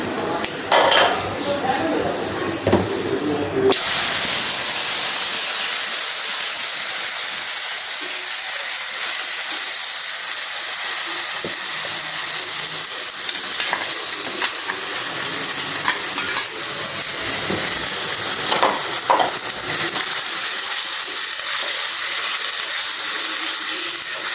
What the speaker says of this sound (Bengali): এখন আমি এখানে পেঁয়াজ বাটাটা দিয়ে দেব।